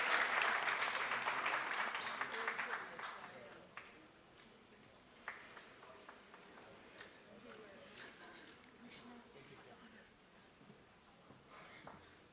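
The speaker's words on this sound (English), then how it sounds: "Another round of applause." Audience applause at a national parole review summit, a dense burst of clapping that swells loudly at first and then thins out over several seconds, leaving scattered claps and room noise.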